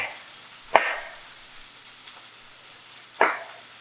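Chicken sizzles softly in a pan, a faint steady frying hiss broken by two sharp scraping stirs of a utensil, close and with no talk.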